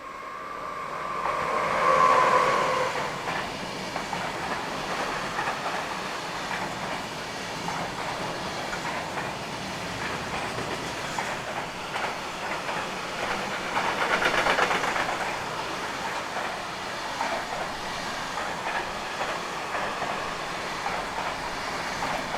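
A freight train rolls through Hannover-Linden station with a steady, broad rumble and rattle of wagons that swells early and again midway, sustained and close for the whole stretch, with no voices.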